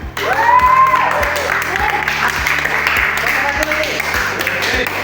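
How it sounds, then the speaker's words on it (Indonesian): A class of students applauds with a steady patter of hand clapping while voices talk over it in the room. "Tepuk tangan."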